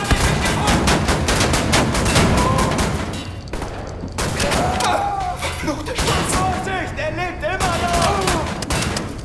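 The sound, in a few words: shotgun fire in a first-person shooter video game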